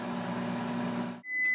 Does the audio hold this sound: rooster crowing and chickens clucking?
no